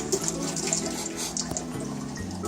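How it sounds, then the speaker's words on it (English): Purified water runs through a filter into a homebrew keg for root beer, a constant close splashing flow with a gurgling, tonal fill note that shifts as the level rises. "Now we are taking water through the filter into the keg"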